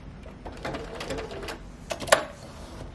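Sewing machine putting a couple of stitches into fabric laid flat under the foot to begin a rolled hem, a short run of soft rapid mechanical clatter close by, ending in a sharper click.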